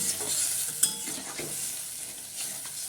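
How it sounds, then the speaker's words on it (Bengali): Soybean curry sautéing in a pan with a little water, tomatoes and salt, a steady close sizzle with occasional stirring scrapes and one sharp clink of the spoon against the pan. "এবারে এটাকে ভালো করে কষিয়ে নেব"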